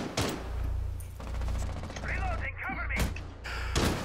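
Rainbow Six Siege gunfire cracks out in several sharp bursts, some in quick succession, while players shout and talk between the shots.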